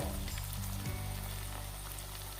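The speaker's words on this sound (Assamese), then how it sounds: "লাহে কৰি দিয়াৰ পিছত মাছটো প্ৰায় ভাজা হৈ গৈছে।" Tingra fish frying in a pan, a soft, steady crackling sizzle of oil heard alone and fairly quiet throughout.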